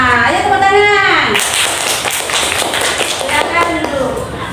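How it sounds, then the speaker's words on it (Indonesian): A class of schoolchildren claps together during an Islamic studies lesson in an Indonesian classroom, producing loud, dense, sustained applause up close, with a voice audible at the start. "Ayo tepuk tangan."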